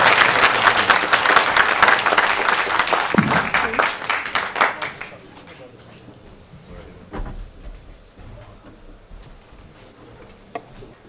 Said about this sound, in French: Applaudissez Leïla, s'il vous plaît.